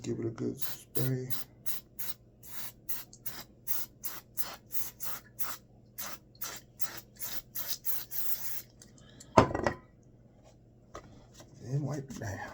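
A spray bottle of cleaner pumped over and over, a rapid run of short sharp hissing bursts in steady rhythm, then a louder rustle and a few more sprays, with a voice talking at times.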